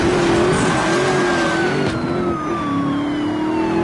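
A big truck in a video game runs with a loud, steady engine drone and wavering revs, alongside a siren-like rising and falling tone, with no talk.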